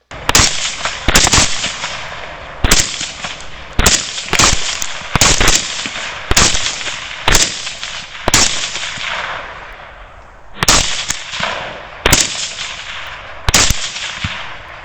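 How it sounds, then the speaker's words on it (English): Rifle gunshots fired at wild hogs during a hunt, a rapid series of about twenty sharp, loud cracks in irregular bursts, each followed by a ringing echo, with no talking. "so we're going to cross shoot. 3, 2, 1."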